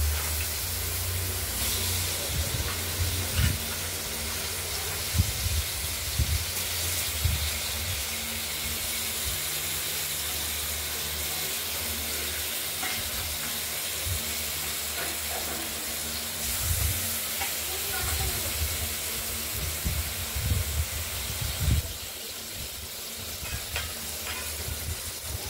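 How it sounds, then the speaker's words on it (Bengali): Potatoes frying in a pan make a continuous sizzle. Repeated scraping and stirring strokes from a spatula come through up close, and no one speaks. "আলুগুলোকে একটু ভেজে নিচ্ছি।"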